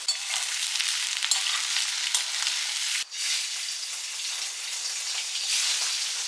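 Potato pieces fry in a pan with chilli and curry leaves, giving off a steady, close hiss of sizzling oil with a brief break in the middle and no talking.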